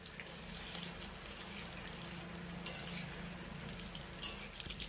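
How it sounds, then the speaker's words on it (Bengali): Onions frying in hot oil over a medium flame give a steady, fairly faint sizzle, broken by a few small clinks of a spoon against the pan. "আর এবার আমি এই পেঁয়াজগুলো তেলের ভিতরে ছেড়ে দেবো।"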